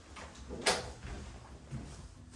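An interior door in a double-wide, three-bedroom, two-bath mobile home opens or closes with one short, close knock, followed by a fainter bump.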